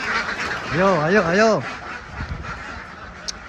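Farmed ducks quack loudly in alarm at a cat nearby, giving one long wavering burst of nasal calls, followed by quieter scattered sounds. A person briefly speaks in the background.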